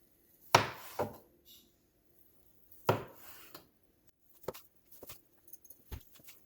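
A knife slices through smoked brisket against the grain, giving a few sharp, close cuts and soft taps on the board with quiet pauses between them.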